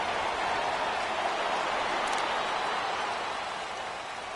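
Steady, dense hiss of rain falling throughout a football game, a broad even wash of sound with no distinct drops and no voices.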